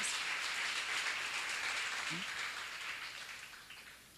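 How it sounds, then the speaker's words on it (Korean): A congregation applauds during a church seminar lecture on Ezekiel. The applause is a dense, steady wash of many hands clapping, holding even for a few seconds and then gradually fading away. "박수 하세요."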